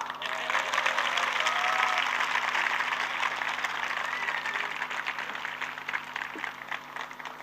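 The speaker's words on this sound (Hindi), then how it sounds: "ताली बजाओ" Sustained audience applause from a crowd at a motivational talk in Dehradun, steady dense clapping filling the whole stretch at even volume with faint voices underneath.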